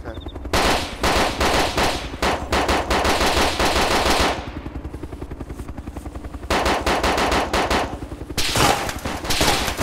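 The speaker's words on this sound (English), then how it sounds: "I'm getting shot at," A loud video game shootout with rapid machine-gun bursts rattling in long strings, dropping briefly to a lull midway before the automatic fire resumes, close and relentless.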